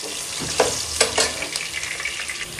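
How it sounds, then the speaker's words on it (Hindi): Potato pieces frying in oil in a pan, a steady close sizzle with a few sharp stirring clinks and scrapes, no voices. "वेजिटेबल में सबसे पहले हम आलू को थोड़ा सा फ्राई करेंगे।"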